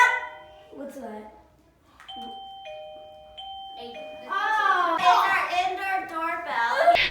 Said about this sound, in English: one of the ways I discourage their talking is by using this doorbell that I got on Amazon